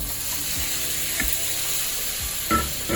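Five ripe tomatoes, cut into small pieces, fry in a pan with a steady, close sizzle. A few soft stirring knocks come through, and no one talks.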